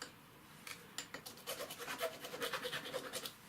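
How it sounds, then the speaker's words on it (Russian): Hand file rasping across the armature shaft of a 24 V MAZ starter motor, a run of quick scraping strokes that starts faintly and grows steady and close, with no talk. "Берем напильничек и фигачим."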